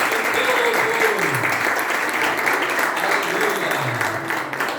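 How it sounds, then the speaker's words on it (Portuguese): Congregation applauding during a Pentecostal church service, a steady dense wash of clapping held for several seconds with a faint voice running underneath. "Pode assentar e dar para Jesus uma forte e calorosa salva de palmas"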